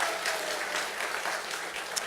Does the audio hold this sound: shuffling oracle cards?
no